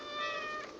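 A cat in the video game Stray gives a single short meow, clear and close, under a second long.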